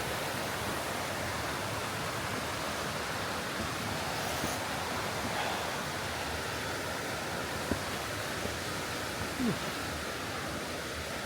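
A small river mini cascade near a Cherokee waterfall keeps up a soft, even rushing hiss, a steady, fairly distant wash of water with no talking.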